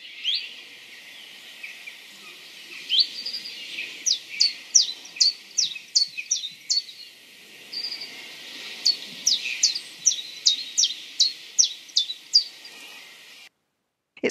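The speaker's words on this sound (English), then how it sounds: "the chiff-chaff says chiff-chaff" Chiffchaff singing its repetitive two-note chiff-chaff song, a run of sharp, evenly spaced high chirps in two bursts, near and clear over faint background.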